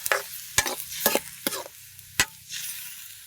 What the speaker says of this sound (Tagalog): Halo ulit